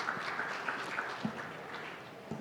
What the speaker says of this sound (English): A round of applause for all my panelists once again.